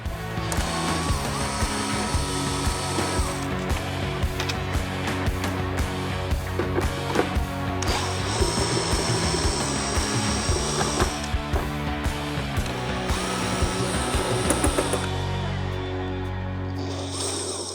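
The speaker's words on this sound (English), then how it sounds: "remove the 4 screws that are holding the inner and the outer together. Again, with a T27." A power driver takes out T27 screws joining the inner and outer front fairing on a 2022-or-later Harley-Davidson Low Rider ST, a busy mechanical whirring and buzzing that runs steadily for most of the stretch, close and fairly loud.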